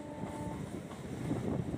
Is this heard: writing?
no